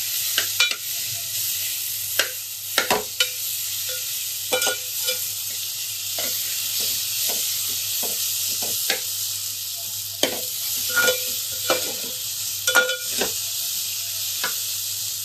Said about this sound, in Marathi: कांदा, खोबरं, गरम मसाला सगळं चांगलं परतून घ्या.